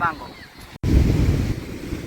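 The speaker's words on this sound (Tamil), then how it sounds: "காற்று சரியான மாதிரி வீசுது" Strong wind blows across the beach at Valvettithurai, Jaffna. A brief voice gives way to loud, continuous gusting microphone rumble mixed with surf-like roar that carries steadily to the end.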